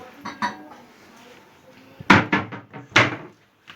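Onions get stirred in a pan for fried liver, a handful of clattering scrapes and knocks of a utensil against cookware, close and distinct with quiet gaps between strokes.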